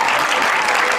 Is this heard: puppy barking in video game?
no